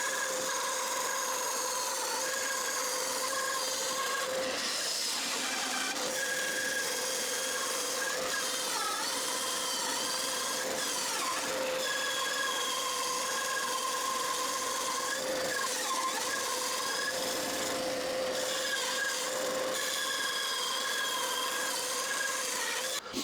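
Wooden Jenga blocks sanded by hand to 240 grit give a steady, moderately quiet scratchy rubbing that runs without pause under a faint background whine.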